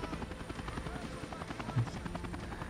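A helicopter in the video game Dead Island Riptide keeps up a steady, low, faint rotor drone throughout, with a player voice briefly audible underneath.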